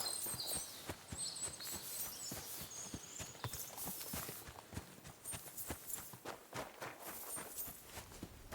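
Horses clip-clop at a walking pace in the medieval role-playing game Kingdom Come: Deliverance II, a steady run of hoof strikes with faint ambient birdsong and game atmosphere around them.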